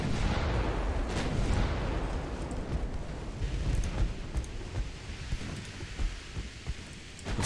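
Battleship secondary guns fire in Ultimate Admiral: Dreadnoughts, a dense run of booming reports that overlap under a steady roar of rumbling battle noise.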